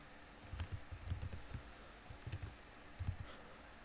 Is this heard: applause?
no